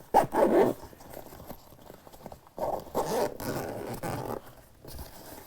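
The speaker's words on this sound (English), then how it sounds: "And then you have a zipper pocket here." A zipper pocket on a pistol case is pulled in a few quick rasping bursts, close and fairly loud, with brief pauses and shuffling between pulls.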